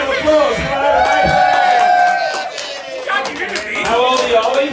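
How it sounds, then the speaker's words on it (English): A crowd at a cane toad race in Australia claps, whoops and cheers loudly, with raised voices and shouting carrying over the noisy applause throughout. "Give Ollie a round of applause."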